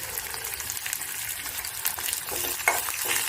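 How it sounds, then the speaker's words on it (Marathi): Onion fries in a pan with browned garlic for jeet vada, giving a steady soft sizzle with occasional stirring scrapes and light crackles, heard close and alone. "त्यात आपण आता कांदा टाकणार आहे. कांदा पण चांगला ब्राऊन करून घेतो."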